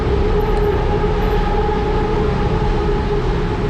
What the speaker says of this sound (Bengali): ওই যে মেট্রো যাচ্ছে